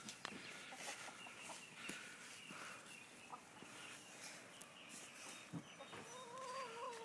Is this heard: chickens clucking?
yes